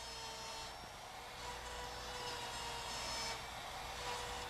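A small laminate trimmer router cuts a recess in wood, a steady whining motor hum with rough cutting noise that swells slightly as the bit wastes the interior, continuous and fairly close.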